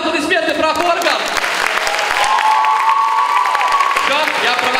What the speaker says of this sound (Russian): Бурные аплодисменты профоркам!